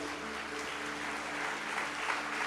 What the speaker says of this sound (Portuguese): Dê um aplauso ao Espírito Santo por isso